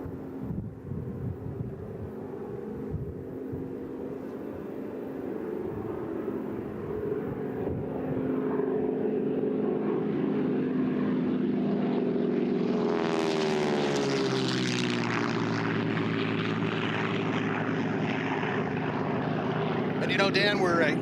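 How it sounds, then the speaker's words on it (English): An AT-6 Texan and a P-51 Mustang make a propeller flyby at an air show, engines droning and growing louder, then a sharp pitch-shifting roar as they pass close overhead, with a commentator talking throughout. "Now coming in from the left, AT-6 Texan and the P-51 Mustang."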